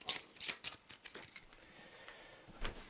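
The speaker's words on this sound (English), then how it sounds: "Shuffle the location card back into the deck." A location card from the Arkham Horror board game is shuffled back into its deck, giving a few quick, close papery riffles and slaps, quiet and brief.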